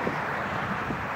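Steady outdoor wind buffeting the microphone, a continuous low rumble and hiss with no clear breaks.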